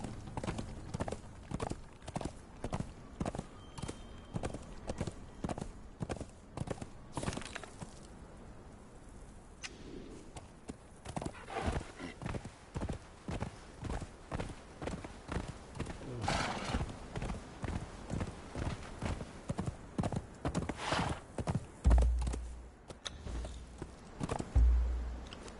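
A horse in the Conan Exiles video game clip-clops steadily across the Exiled Lands, its hooves beating a regular rhythm for the whole stretch, with an occasional whinny near the end and no talking.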